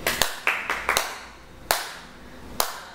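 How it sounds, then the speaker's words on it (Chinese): Someone claps hands in applause, giving a handful of sharp, close claps in an uneven rhythm, first a quick cluster and then two spaced claps, with no voices. "我就要给你一个掌声"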